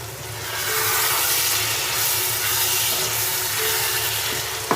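Minced beef keema with capsicum frying in a pan over low heat gives a loud, steady hiss of sizzling oil that runs unbroken throughout, ending with a faint clink of a spoon.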